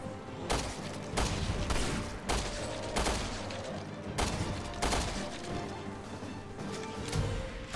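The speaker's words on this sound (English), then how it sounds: "I shot you in the head." Repeated gunshots ring out in Resident Evil Revelations 2 on PS4, a string of loud sharp bangs spaced about a second apart over a steady rumbling game soundtrack.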